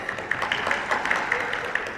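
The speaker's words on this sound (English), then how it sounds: "Dear audience, a big round of applause." A corporate event audience gives a round of applause, a dense, even wash of many hands clapping at moderate distance, steady throughout with a few sharper claps standing out.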